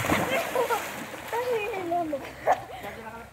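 A splash of water as someone jumps into a cold spring-fed river, with excited children shouting and chattering around it outdoors.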